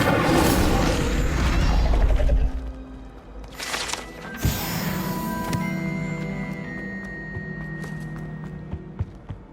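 The Incendio fire spell cast in Hogwarts Legacy, a loud whooshing burst with crackling impacts followed by a second flaring blast, then ringing magical tones and scattered clinks over ambient music.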